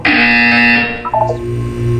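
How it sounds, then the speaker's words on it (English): A loud buzzer in the video game Portal 2: one harsh, distorted electronic drone holds for about a second, then cuts off into a brief descending stutter of tones and a low hum. "You will hear a buzzer. When you hear the buzzer, look up at the ceiling"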